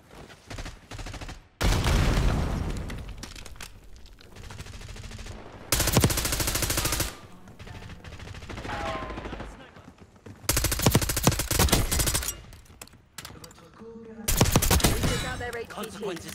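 Call of Duty Black Ops 6 gunfire comes in loud automatic bursts and fusillades separated by quieter gaps, with game dialogue and effects running underneath.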